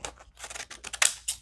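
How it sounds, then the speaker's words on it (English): Small pinking shears snip through a book page in a quick series of crisp, close cuts, several short paper crunches with brief gaps between them. "I have the little pinking shears here. I'm just going to grab these and cut something cute out of this."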